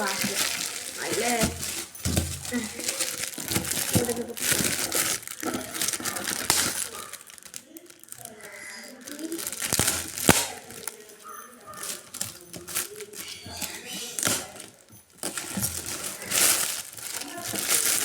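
A plastic cover on a gift pressure cooker crinkles and crackles in irregular bursts while it is torn open and unwrapped, with people talking throughout and occasional clatter.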